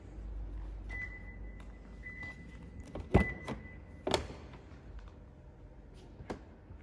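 Soft-close door closers on a 2017 Lexus RX pull its doors shut, giving a couple of quiet, dull thunks with a faint whirring hum beforehand, all low in level in a calm setting.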